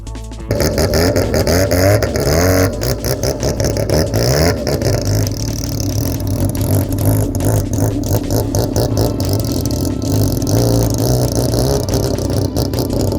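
Rotary-engined race cars roar loudly and steadily at an oval track, with rapid pulsing rises and falls in the engine note as they circle.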